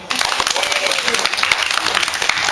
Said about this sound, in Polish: Brawa dla Oli.